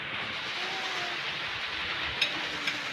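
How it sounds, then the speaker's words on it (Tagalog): Steady rain falls in a mountain setting, a continuous broad hiss with no break, fairly even and moderately close, with a couple of faint brief clicks near the end and no talk. "nabutan po kami ng ulan"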